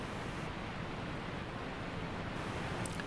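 Turbulent water and standing waves churn in an ocean inlet where currents exceed 12 knots, a faint, steady broadband rush with no distinct breaks or voices.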